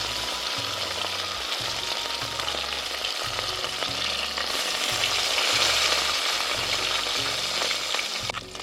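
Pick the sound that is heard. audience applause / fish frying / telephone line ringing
fish frying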